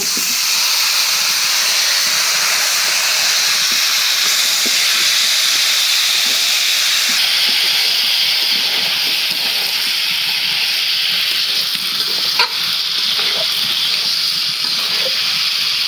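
Marinated meat added to deep-browned fried onions in a home kitchen, producing a long, even hiss of steam and sizzle with occasional faint clinks, heard close and alone.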